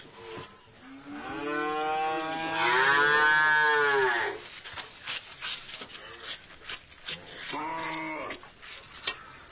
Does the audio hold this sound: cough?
no